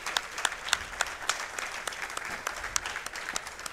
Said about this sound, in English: Let's get a round of applause for Coach Price again.